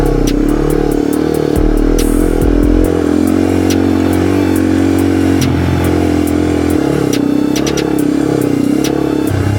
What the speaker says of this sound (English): Your bike is too loud.